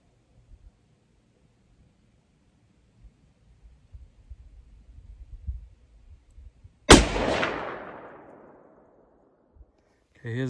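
Rifle gunshot at an outdoor shooting range, one loud sharp crack followed by a long decaying echo, preceded by soft handling rustles and light movement noise.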